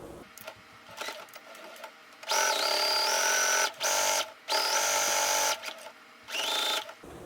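A sewing machine stitches the bottom seam of a fabric clutch bag in quick bursts, three loud runs of rapid whirring with brief pauses and faint handling noise between them, close by.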